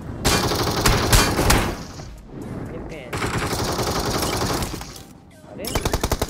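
Rapid gunfire bursts from the BGMI mobile battle-royale game, including UMP automatic fire, crackle in loud clustered volleys with brief pauses between them, ending in a sharp rhythmic string of shots.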